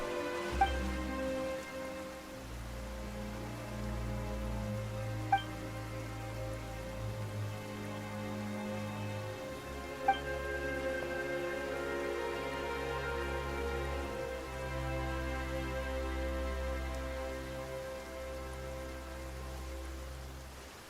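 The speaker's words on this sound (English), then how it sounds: "Why is it raining all of a sudden?" Steady rainfall in the game Genshin Impact, a continuous wash of drops pattering on surfaces, with low ambient music tones sustained beneath and a few faint clicks.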